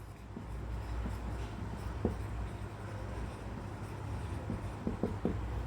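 Faint handwriting on a surface during a lecture on nutrigenomics, soft scratchy strokes with a few small taps, close and quiet under low room noise.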